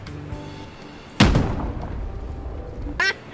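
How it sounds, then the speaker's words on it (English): A single cannon shot in the video game Gas Station Simulator: one sharp, loud boom that trails into a rumbling decay. A brief short burst follows near the end. "You just took a cannon to the back!"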